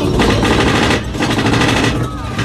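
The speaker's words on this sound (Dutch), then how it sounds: "Vuurwerk was heel mooi." Fireworks at Disneyland Paris crackle and pop in dense, rapid bursts like gunfire, loud and continuous with a brief dip in the middle, while crowd voices murmur beneath.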